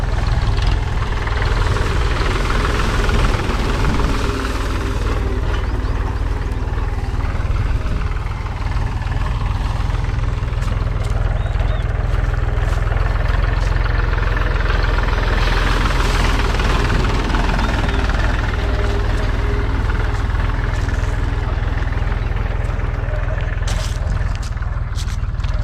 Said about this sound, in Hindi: उल्टा करके वापस एक बार ट्रैक्टर चलाएंगे